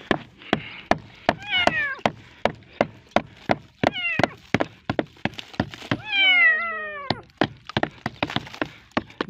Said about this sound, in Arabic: قطة صغيرة، بتبقى القطط موجودة في زي ما احنا شايفين كده في قالب الطوب